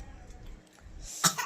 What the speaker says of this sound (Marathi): अयो खोकला पण आला बघू